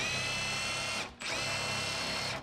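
Impact wrench running on a strut nut on a Foxbody, a close, loud, continuous whirring whine in two bursts split by a brief pause.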